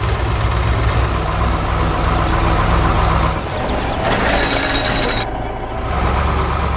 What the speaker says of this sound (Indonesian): Mesin itu sedang membawa kayu besar dan batang pohon